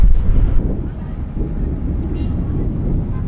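Strong desert wind in Uzbekistan buffeting the microphone, a loud low roar that gusts at the start and then settles into a steady rush.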